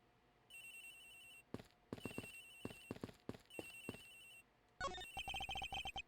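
A phone ringtone chimes in the Ace Attorney Investigations video game, repeating short electronic ringing bursts over soft game music and text blips, with a brighter, louder ring pattern near the end.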